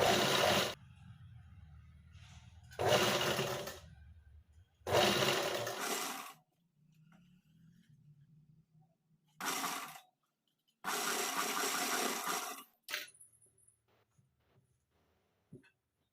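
An electric sewing machine stitches a princess cut blouse in five loud, close whirring bursts of one to two seconds each, separated by quiet pauses with faint handling noises.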